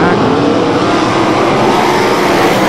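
Sprint cars roar around the dirt oval at Ohsweken Speedway during an A-main race, a dense continuous wall of engine noise with no breaks.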